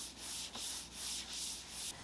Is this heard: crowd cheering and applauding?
no